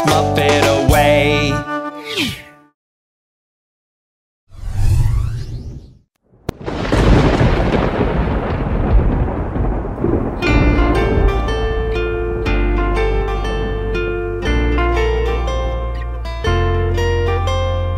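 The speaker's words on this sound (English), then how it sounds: "I hear thunder, I hear thunder" In a children's nursery rhyme song, a thunder effect hits with a sudden crack and a rolling rumble that fades over a few seconds before bright music starts.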